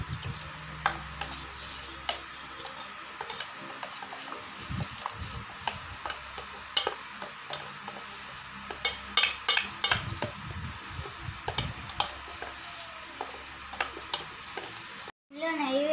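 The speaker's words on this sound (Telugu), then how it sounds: "వేసుకున్న తర్వాత కొంచెం పాలు పోసుకొని కలుపుకోవాలి" A spoon stirs a mixture in a bowl after milk is poured in, making repeated close scraping strokes and light clinks against the vessel, with faint voices now and then.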